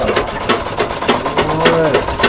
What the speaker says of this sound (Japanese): これも結構古そうなミシンですよね。